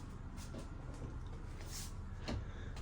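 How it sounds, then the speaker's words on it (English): A closet door in a Bangkok condo bedroom opens with a soft clunk and brief rattle against steady room hum, close by and fairly quiet. "A light turns on when you open up the door."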